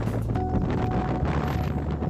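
Wind blowing across a paddy field nursery of rice seedlings outdoors: a steady, loud, rushing gust with some microphone buffeting, continuous for about two seconds, with no talk.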